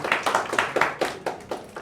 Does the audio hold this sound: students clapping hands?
yes